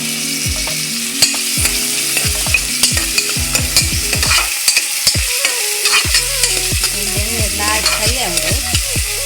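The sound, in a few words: stir-frying mutton pepper masala in a pan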